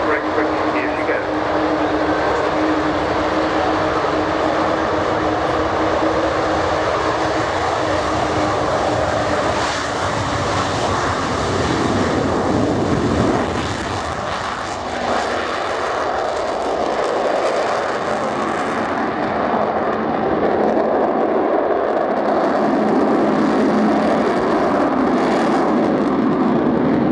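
The British aircraft 'The Spirit of Great Britain' performs at the Yeovilton Air Day display, its engine roar loud and sustained throughout, rising and swelling as it passes, with a crowd and commentary underneath.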